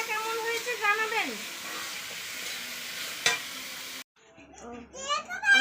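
Kohlrabi frying in hot oil with garam masala, a steady close sizzle broken by stirring scrapes, stopping abruptly near the end as faint children's voices come through.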